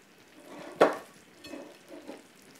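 Stewed beef with prawns and stockfish is scooped from a cooking pot, with one sharp utensil knock against the pot followed by softer scraping and stirring sounds, close and fairly quiet, with no talking.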